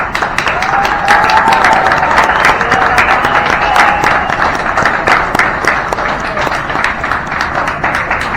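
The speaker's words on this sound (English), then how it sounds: "please give them a hearty round of applause." Loud, sustained applause from a standing crowd honoring the people who restored a Port Authority Transit trolley at its reveal, dense clapping filling the whole stretch with some cheering mixed in.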